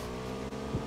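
A motorcycle engine in the video game PUBG hums as it drives away, a steady, fairly quiet drone under a second of gameplay with no talking.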